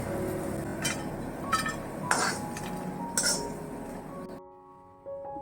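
Roasted bitter gourd seeds are scraped out of a pan onto a plate, giving a handful of metallic clinks and scrapes over a low background, before the sound briefly drops away and returns.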